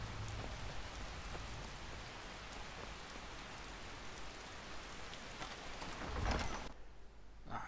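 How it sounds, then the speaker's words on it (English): Steady, dense rain pours in the Skyrim video game, a loud even hiss that swells briefly near the end before cutting off abruptly to near silence. "Ah, let's get out of the rain. That's getting annoying."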